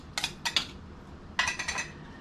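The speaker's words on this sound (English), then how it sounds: "Or just use my butter knife. Scrape some of this off the top." A butter knife working over coconut milk ice cream, giving a few brief, faint metallic scrapes and clinks in two short clusters separated by a pause, quiet and close, with no talk.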